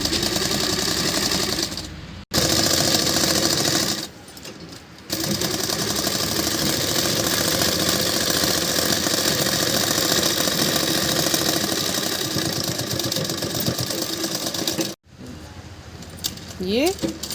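Sewing machine stitching a long suit's fabric, running in a fast, steady mechanical whir with brief stops and restarts, close and loud, while a person talks over it.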